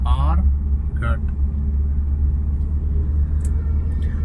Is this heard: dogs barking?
no